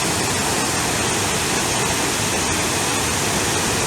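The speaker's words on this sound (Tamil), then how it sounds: "இவ்வளோ கிட்டத்தில் அதிராப்பள்ளி ஃபால்ஸை பார்க்குறோம்" Athirapally waterfall roaring up close, a dense, steady broadband rush of falling water filling the whole clip with constant loud spray and no break.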